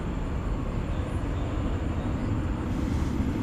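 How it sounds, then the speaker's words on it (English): A 15-year-old Airbus A380 on the runway at DFW at night, a loud steady engine roar and rumble heard close, with a faint high whine running through it. "Flight 8 headed back to Sydney. A380 15-year-old aircraft."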